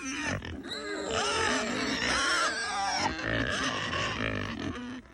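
Several pigs grunt and squeal close by, a busy, continuous jumble of snorts and oinks with no pauses.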